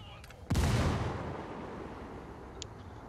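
A frag grenade blows up in Rainbow Six on a Bolivian map, giving one loud, close boom that rumbles and fades over a couple of seconds.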